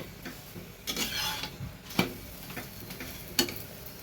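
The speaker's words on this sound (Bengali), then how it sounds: "দুদিকটায় এরকমভাবে চেপে চেপে কিন্তু ভেজে নেব, সাইডগুলো যেন কাঁচা না থাকে" Aloo paratha frying in a pan with its sides pressed down, giving a soft continuous sizzle broken by a few sharp clinks and taps of the spatula against the pan.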